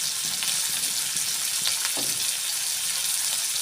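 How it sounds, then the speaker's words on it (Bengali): Tender drumsticks and chilli fry and get stirred in a pan, giving a constant close sizzle with soft scraping stir sounds over it and no talking. "সজনে ডাঁটা, কচি ডাঁটা দিয়ে দিলাম। লঙ্কাটা দিয়ে দিলাম। দিয়ে আমি এটা নেড়ে চেড়ে ভেজে নেব।"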